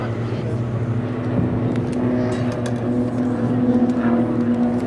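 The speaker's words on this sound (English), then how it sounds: "Now I want you all to watch the outside two aircraft." Blades aerobatic team display aircraft flying at the Shoreham Airshow 2011, giving a steady, droning engine hum that holds at a fairly even, moderate level throughout without clear breaks.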